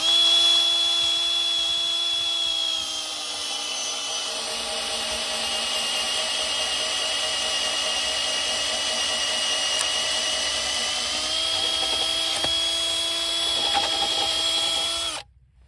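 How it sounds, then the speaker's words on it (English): A Makita DHP458 cordless drill whines steadily at high speed for about fifteen seconds, close and loud, boring a 16mm bit into a hardwood rosewood post, with a slight pitch drop partway through as it bites, then stops. "this Makita drill had plenty of power to put this 16mm bit through this 10-year-old hardwood rosewood post"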